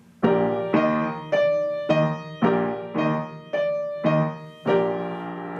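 Solo piano plays both hands together in a tutorial arrangement of a song: seven evenly spaced, sustained chords with a low left-hand bass pattern under the melody, close and clear with no talking.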